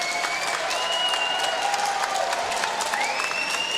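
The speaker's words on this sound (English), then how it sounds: "let's have a nice round of applause for both fighters" A crowd at a bare-knuckle fighting event in Miami claps steadily in a large arena, with faint cheers and whistles mixed into the continuous applause.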